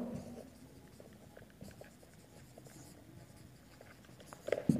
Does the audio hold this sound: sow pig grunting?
no